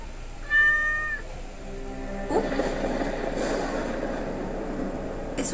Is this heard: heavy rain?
no